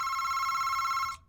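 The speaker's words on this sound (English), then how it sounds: "There's the phone." A telephone rings in a house, one long steady electronic trill that holds loud and even before cutting off abruptly near the end.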